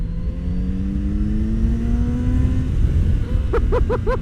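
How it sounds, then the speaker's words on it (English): A 2019 Kawasaki Z900RS Cafe motorcycle engine revving up through the gears while riding, rising tones sweeping upward under steady wind noise, with a few short sharp chirps near the end. "look, this sound of this bike"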